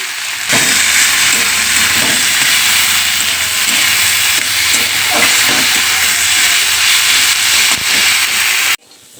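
Fourteen kinds of leafy greens, salted, fry in a pan, giving a loud, dense hiss that starts abruptly, holds steady for several seconds and then cuts off, with no speech.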